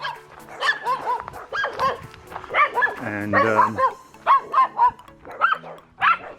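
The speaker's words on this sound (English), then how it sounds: "You can hear all the doggies." Several dogs bark and yip near a private bush camp in a game reserve area, producing repeated overlapping barks of varying pitch, with someone talking briefly.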